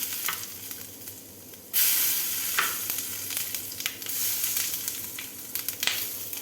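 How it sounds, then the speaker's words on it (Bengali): Bay leaves, whole cumin and garam masala hit hot frying oil left from potatoes, jumping from a low simmer to a loud close sizzle, then settling into a crackling, popping fry with no talk. "এবার আমি এর মধ্যে দেব তেজপাতা, গোটা জিরে আর গরম মশলা।"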